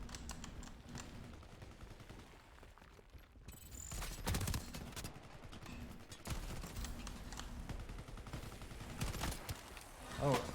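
Gunfire in the online shooter Shatterline, with bursts of rapid automatic shots and scattered single cracks throughout, plus a player talking over the action.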